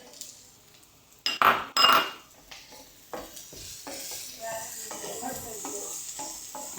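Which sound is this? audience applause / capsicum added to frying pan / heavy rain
capsicum added to frying pan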